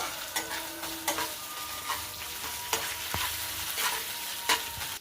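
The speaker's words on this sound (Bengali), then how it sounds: "আদা রসুনটা ভালো করে কষিয়ে নিচ্ছি।" Ginger garlic spice paste stir-frying for doi katla, a steady sizzle under repeated scrapes and clinks of a spoon against the pan, close and continuous.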